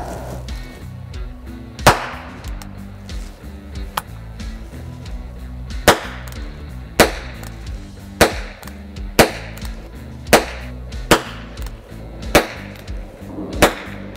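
Sharp, light shots from a Flobert revolver crack out one at a time at irregular intervals over a steady low hum, each a short bright pop with a brief tail.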